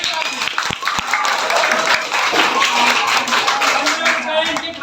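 Children and audience at a school quiz program clap for the quiz winners, a dense, lively burst of applause that carries through the whole stretch with a voice calling out over it.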